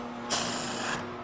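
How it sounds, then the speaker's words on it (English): Paoli pneumatic air gun spinning a wheel nut off, a single loud burst of high hissing, whirring air and mechanism noise lasting under a second, close up and alone. "Have a look at these beautiful air guns. It's a Paoli air gun. They sound magnificent."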